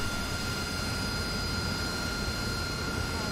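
An aircraft engine during takeoff in a flight simulator game, a steady, loud droning roar with constant whining tones, unbroken and without talk.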